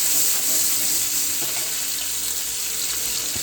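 Garlic and green chillies frying on a low flame in a pan, a steady broad hiss and sizzle that runs close and even throughout with no talk.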